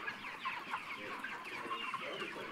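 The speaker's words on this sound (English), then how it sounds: "These are Ross broiler chickens." Ross broiler chickens on a free-range poultry farm in South Africa cluck softly in a steady, low-level flock murmur, with no one talking.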